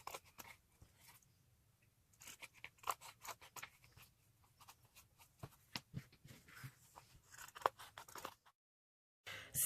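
Scissors cutting out paper bunny ears for Easter gift tags, a string of soft close snips and crisp paper crunches in uneven bursts, then a brief pause.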